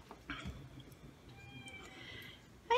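A pet cat, Miss Kitty, meows near the camera, with a clear cry early on and a sharper one at the very end, over a faint background hum.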